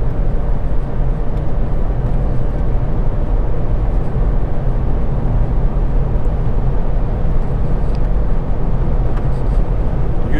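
Seat Leon Xcellence with a 1.5 TSI engine cruising at high speed on the road, a loud continuous broadband rumble of road, tyre and wind noise that holds steady throughout, with no speech over it.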